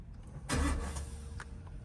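A Chevrolet Camaro SS engine starts on a cold morning start after its battery cable is reconnected: a short loud crank catches into a brief burst, then settles into a quieter idle nearby.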